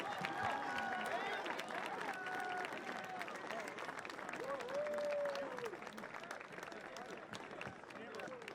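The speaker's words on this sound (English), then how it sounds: "let's have one big round of applause for all of our senior cheerleaders and football players and their families." Crowd applause at a high school football game, steady dense clapping from a large outdoor crowd throughout, with voices calling and some whistling mixed in.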